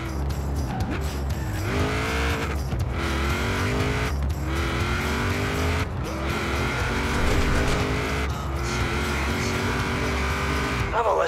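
A classic 1940s car in Forza Horizon 4 revs hard down a straight, its engine note climbing repeatedly through gear changes with brief tire squeal, loud and continuous with no talking.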